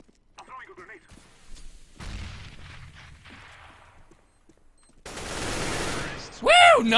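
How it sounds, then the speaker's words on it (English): Video game combat with a thrown grenade and gunfire: scattered pops and a burst of gunfire, then a sustained loud rumbling blast, with voices speaking over the action. "Smoke! I'm throwing a grenade."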